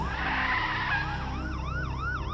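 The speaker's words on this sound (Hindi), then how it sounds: "पीछे से पुलिस की गाड़ी सायरन बजाते हुए आती है" A police car siren wails in rising and falling sweeps, growing clearer as the vehicle approaches over a low engine rumble, with no voices.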